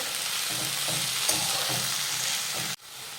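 Moong dal stirred into frying vegetables for a methi bhaji, a continuous sizzle with soft scraping strokes of a spoon in the pan, steady and close, cutting off abruptly near the end.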